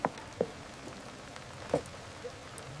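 Rain falls with a few separate drops and splashes standing out over a soft, steady patter, with no voices.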